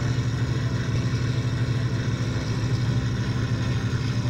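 Aircraft engine droning steadily in flight over a bombing raid on Berlin, with a vibrating left engine; a loud, continuous low-pitched hum with a pulsing rumble and no break.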